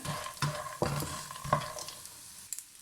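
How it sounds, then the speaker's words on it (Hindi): A spoon stirring and scraping dry fruit panjiri as it roasts in a pan, giving several distinct scrapes and knocks over a soft sizzle. "मुसलसल चम्मच हिलाते जाएं।"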